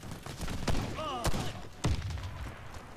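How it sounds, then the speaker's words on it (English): Several sharp gunshots crack out in the Warface shooter game, three distinct bursts spaced about a second apart, with a brief warbling tone between them. "I'm trying to shoot him in the head. Might miss a few shots."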